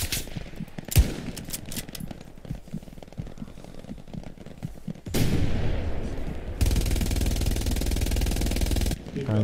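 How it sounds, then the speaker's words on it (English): Heavy gunfire from the World War II shooter game Hell Let Loose: dense overlapping rifle and machine-gun bursts, loud and close, building into a sustained roar of automatic fire in the last seconds, with no talking. "we're coming under heavy fire"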